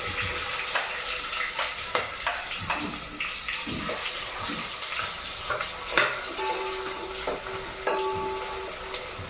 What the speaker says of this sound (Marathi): इथे मस्तपैकी खडे मसाले फुलून वर आले तर त्यानंतर मी ते टाकतो हा कांदा